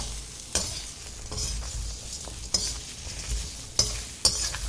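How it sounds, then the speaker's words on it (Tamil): Onions and small shallots are dry sautéed in a bare pan with no oil for a coriander crab masala, making a low hiss with periodic loud spatula scrapes and clacks against the pan. "வெறும் சட்டியில் தான் வதக்கிட்டு இருக்கோம்"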